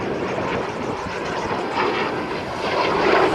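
Albatros aerobatic jet turning overhead at a navy air station airshow, a loud, sustained engine roar that swells slightly toward the end.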